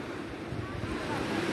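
Calm sea waves washing onto a crowded beach shore, a steady soft wash of surf with light wind buffeting the microphone, continuous and moderately near.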